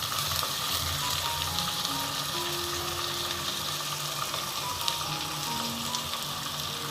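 Ginger garlic paste sautéing in a pan for Tamil chicken gravy, a dense continuous sizzle heard up close throughout, steady and without pauses, with no talk.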